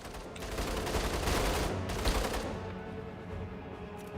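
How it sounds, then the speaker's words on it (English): Distant video game gunfire rattles in a dense burst of rapid shots for about two seconds, then thins out and fades into quieter background noise. "Hopefully they're fighting the constructs, because I can hear some gunfire."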